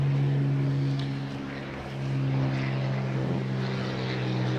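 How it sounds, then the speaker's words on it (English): A propeller airplane drones overhead, a steady low engine hum that dips slightly and then swells again, moderately distant. "Oh, aeroplane it is actually."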